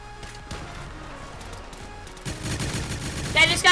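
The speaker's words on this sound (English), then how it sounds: "That minigun has juice in it, yes." Rapid gunfire from a minigun in a Minecraft hunger games match with guns, bursts growing louder and denser toward the end under game noise.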